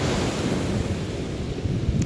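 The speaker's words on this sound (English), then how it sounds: "Imagine you're on the beach, hear the ocean" Ocean surf washes against a beach in a steady, loud roar with rumbling low wash and wind buffeting the microphone, continuous throughout with no talking.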